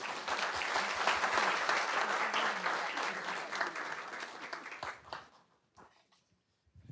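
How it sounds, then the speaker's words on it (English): A school board meeting audience applauds its staff with sustained, dense clapping that holds steady and then thins out and fades over the last two seconds, leaving a few scattered claps. "Please give them another round of applause."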